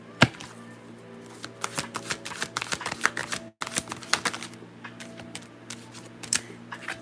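Tarot cards are shuffled by hand in a rapid run of crisp, papery riffles and snaps, close and fairly loud, with one brief pause in the middle.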